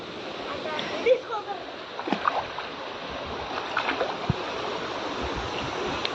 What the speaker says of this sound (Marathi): ही आमची नदी आहे